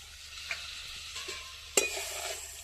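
Water poured into spiced potatoes frying for aloo dum, a quiet sizzle with a couple of light knocks and then a sharp burst of hissing as the water hits the hot pan.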